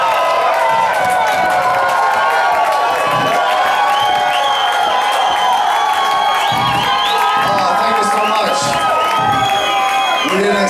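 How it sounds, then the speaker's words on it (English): A crowd at a concert in the Tractor Tavern cheers loudly and continuously, with shouts, whoops and whistles piling up, close and dense. "you would cheer for it now"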